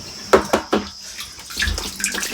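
Water is flung from a bucket while washing out a tank: a few quick, close splashes in a row, followed by softer sloshing and running water.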